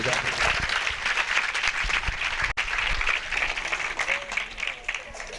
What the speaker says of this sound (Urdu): میں چاہوں گا بائبل کے لیے، خدا کے کلام کے لیے ہم زوردار تالیاں بجا دیں۔